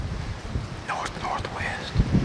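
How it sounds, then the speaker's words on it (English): Strong wind buffets the microphone during a snowy late-season bow hunt in Arkansas, a steady low rumble with gusts, and faint whispered-sounding voices pass over it briefly. "It's nasty, windy."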